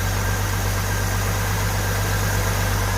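A 1986 Ford F150 pickup with a 4.9 inline six, freshly fitted with an upgraded starter, idles steadily with a smooth, even low rumble and a constant engine hum, close and unbroken with no talking.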